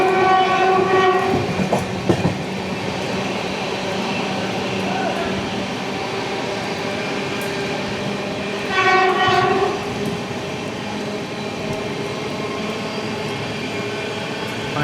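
Okha to Ernakulam Express train running through Gujarat past Vishwamitri station, with steady rumbling wheels and rail clatter throughout and a loud horn blast around the middle, plus a brief sharp burst near the start.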